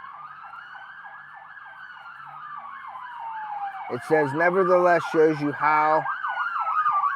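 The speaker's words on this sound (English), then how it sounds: "Sorry about the noise. There's a bunch of cops all flying around here." Police sirens pass outdoors in an area with downed trees after a tornado, wailing steadily at moderate distance and growing louder, while someone talks briefly over them.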